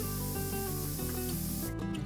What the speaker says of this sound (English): Coat with silver spray paint.